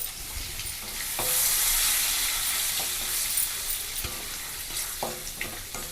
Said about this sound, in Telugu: అల్లం కొంచెం వేగేదాకా అలాగా కలుపుకుని ఇవ్వండి